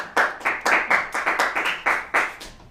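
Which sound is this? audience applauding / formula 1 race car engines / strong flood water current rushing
audience applauding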